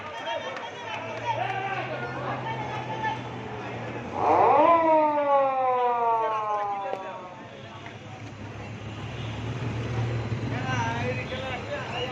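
Ambulance siren wailing through a Dhaka street during the quota protests, a rising and falling tone swelling briefly over crowd chatter and a steady engine drone, with someone talking throughout.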